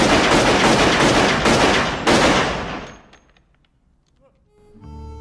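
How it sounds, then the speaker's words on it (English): A burst of rapid, loud gunfire with dense repeated shots for about three seconds, then it cuts off into quiet with faint tonal ringing. "when we see the guns fire"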